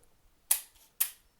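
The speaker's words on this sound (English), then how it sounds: "Open the mirror, use the leaf shutter." A camera with its mirror locked up fires its leaf shutter on a half-second exposure while shooting expired Kodak TMAX film. Two crisp, close mechanical clicks half a second apart mark the shutter opening and closing in a quiet room.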